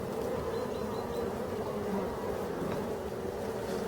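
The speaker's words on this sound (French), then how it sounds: "Allez, c'est plein d'abeilles là." Dense, steady buzzing of many honey bees at a busy hive in a Brittany apiary during a strong pollen flow, a continuous close drone with no talk over it.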